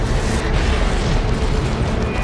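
A lascannon blast strikes a Farseer during a Dawn of War 2: Retribution 2v2 battle, a dense, sustained explosive roar with a heavy low-end boom filling the whole moment.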